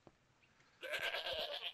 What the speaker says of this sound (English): Sheep without their wool look horrifying.